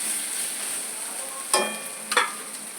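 Ginger and garlic fry in a small amount of oil, giving a soft, steady sizzle with two brief scraping stirs partway through.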